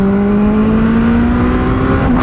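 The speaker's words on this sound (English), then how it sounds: "Let's get just a quick pull in fourth." A 300 hp turbocharged Suzuki Hayabusa motorcycle pulls hard in fourth gear, its engine note loud and close and rising steadily in pitch.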